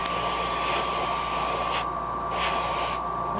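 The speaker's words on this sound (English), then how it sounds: "when you're blowing this iridescent paint, you turn your pressure up high" Airbrush running at about 40 psi spraying iridescent paint onto a square-bill shad fishing lure, a loud steady hiss that cuts out briefly twice as the trigger is released.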